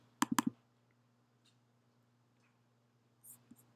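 A computer mouse clicking, several quick close clicks in a short cluster, then a soft click after a quiet pause, with faint electrical hum beneath.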